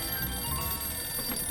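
Telephone ringing in the video game Sam and Max Save the World, a steady electronic bell ring holding throughout over a low rumbling game background.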